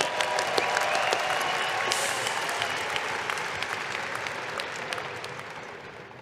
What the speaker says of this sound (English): Let's applaud these graduates and alumni one more time.